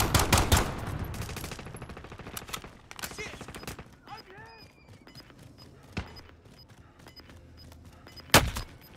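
Automatic gunfire in Call of Duty: Modern Warfare, with a loud rapid burst at the start, then scattered single shots and one last sharp crack, mixed with game voice callouts.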